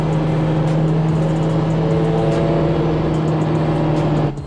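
An Audi A4 B5 1.8T convertible's engine drones steadily nearby as it passes, a sustained hum, loud and continuous, easing off right at the end.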